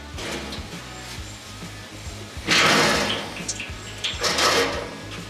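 Motor oil pours from a van's drain bolt hole into a 20-gallon electric drain pan, a steady hissing splatter that surges louder in two bursts against a low background hum.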